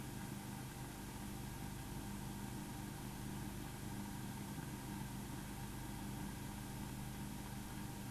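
Caterpillar crawler tractor engine running steadily while plowing and wading through mud, a constant low rumbling drone heard at a distance without any talk.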